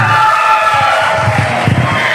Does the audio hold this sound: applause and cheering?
yes